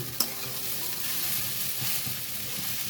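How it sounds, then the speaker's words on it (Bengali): A spoon stirs sago pulao in a nonstick pan over a very low flame, a soft steady sizzle with gentle scraping and one sharp clink at the start, alone with no voices. "এবার এটাকে আমি নাড়ব এইভাবে উপর নিচ করে নিতে হবে ফ্লেমটা একদমই স্লো একদমই স্লো করা আছে"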